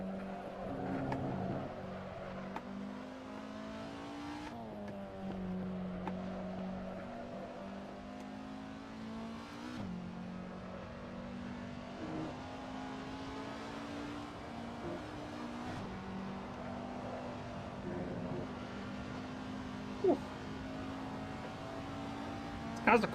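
Race trucks in the Assetto Corsa racing game drone with a steady low engine tone that shifts pitch through gear changes, running continuously throughout, with a voice talking faintly underneath.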